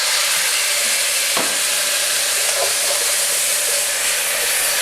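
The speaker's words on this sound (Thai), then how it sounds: "กระเทียมไปผัดนะครับ ใส่เต้าเจี้ยวไปหน่อยหนึ่งประมาณหนึ่งช้อนโต๊ะ" Garlic stir-fries with fermented soybean paste in a wok, a loud continuous hiss and sizzle with a single clank of the utensil early on and no speech.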